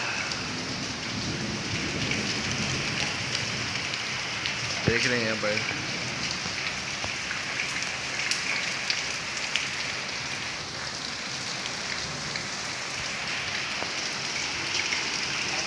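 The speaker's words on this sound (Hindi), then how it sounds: "बाहर कितनी तेज़ बारिश हो रही है।" Heavy rain falls outside, a dense, steady roar of downpour that runs throughout, with someone speaking briefly over it and a faint tonal chirp partway through.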